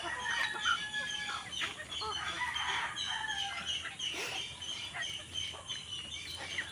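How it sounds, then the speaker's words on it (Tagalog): Chickens clucking among dense outdoor birdsong and ambient noise in rural Bohol, Philippines, with a rooster's crow rising faintly in the mix, steady throughout. "Ayan, manok."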